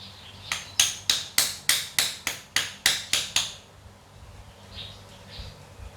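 Ten quick, even taps of a toy hammer striking wooden pegs in a steady rhythm, close and crisp, followed by quiet.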